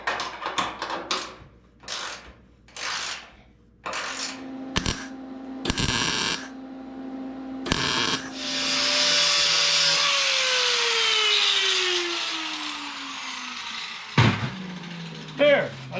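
Ratcheting clicks and knocks come first, then a grinder whines steadily for several seconds, smoothing sharp weld edges and burrs on a V12 fuel tank build before spinning down with a falling tone.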